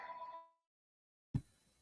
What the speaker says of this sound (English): That sounds like an old school type of phone.